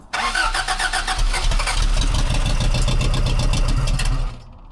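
A 1984 Toyota AE86 Corolla coupe engine, likely flooded after a heavy dose of fuel, cranks briefly and catches, then runs loud and rough up close for a few seconds before it cuts off abruptly.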